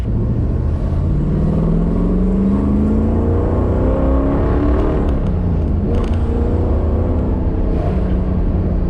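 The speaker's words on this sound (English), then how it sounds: "Hear the chamber exhaust." A 1969 Camaro Z28 with chambered exhaust revs up and down in rising and falling sweeps, loud and close, with a deep rumbling idle underneath and no talk.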